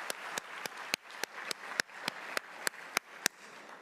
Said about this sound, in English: Give God that hand clap.